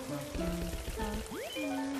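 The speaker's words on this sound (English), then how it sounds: "I'll water this." Water sprays in the Luigi's Mansion video game amid layered tonal game sounds, with a short rising sweep in the middle, moderately loud and steady throughout.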